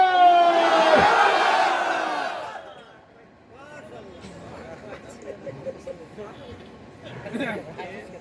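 At a Bengali Islamic waz gathering, a large crowd answers a takbir call with a loud, unified shout that swells for about two seconds and then fades into softer murmuring and scattered voices.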